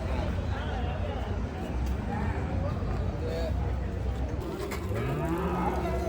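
Cattle low repeatedly at the Salem Minnampalli cattle market in Tamil Nadu. The moos carry over a constant crowd babble, with people talking nearby throughout.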